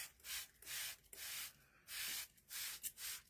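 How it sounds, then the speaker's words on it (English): Aerosol-style spray bursts misting coffee over a stump doll Santa craft with faux fur, several short hissing blasts in an uneven rhythm with brief gaps between, close and fairly quiet, no talk. "So I'm just spraying this whole thing. Just going right over it."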